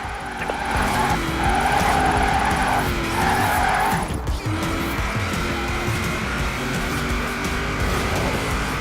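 A car drifting in Forza Horizon 4 with long, loud tire squeals and skids over a revving engine, the squeal wavering and cutting off partway before the engine roar carries on alone.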